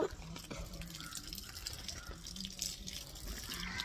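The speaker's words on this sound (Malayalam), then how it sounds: "നന്നായിട്ട് വെള്ളം ഒഴിച്ചു കൊടുക്കണ്ടേ." Water is poured onto a potted plant, making a faint, steady trickle and patter of liquid with occasional drips, quiet and continuous throughout.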